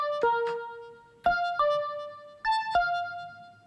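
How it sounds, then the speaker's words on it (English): A Korg Drumlogue synth line played dry with delay and reverb removed: five or six clean, tonal notes with sharp attacks, each cut off abruptly before the next, close and upfront with no voices. "So if I take the delay and reverb off, it sounds like this."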